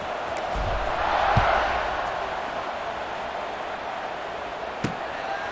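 A video game stadium crowd from a college football game between Kansas and Kansas State roars in a broad, steady wash of cheering that swells briefly, then settles into a sustained background din with a couple of sharp thumps.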